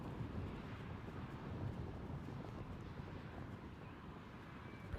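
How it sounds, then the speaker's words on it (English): Wind buffeting the effects microphones at a cricket ground during a T10 match, a continuous low rumbling roar with faint steady noise, fairly quiet and unbroken, no talk. "You can probably hear the wind in the effects mics as well."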